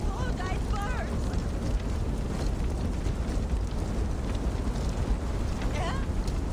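Fire burning in Assassin's Creed Valhalla, a steady low roar and crackling rumble that fills the whole stretch, with brief voices calling out over it.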